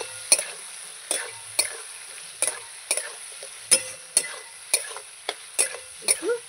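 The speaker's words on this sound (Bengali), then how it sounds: "এবার আমি ভালো করে মশলাগুলো আলুর সঙ্গে কষিয়ে নেব।" Spices and potatoes being sautéed in a pan for an amudi fish curry, with a steady sizzle beneath about a dozen sharp, evenly spaced scrapes of a spatula stirring against the pan.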